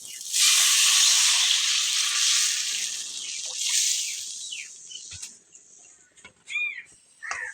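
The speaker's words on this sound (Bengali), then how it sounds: "এখন আমি সামান্য জল দিয়ে দিলাম।" Water poured into a hot pan of egg and fish curry sets off a loud, broad sizzling hiss that dies down over several seconds, followed by faint clinks and scrapes of cooking.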